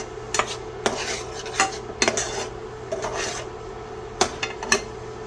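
Corn kernels stirred in a pan with a utensil, giving repeated scraping and clinking strokes at an uneven rhythm over a steady low hum, close and moderately loud with no talking.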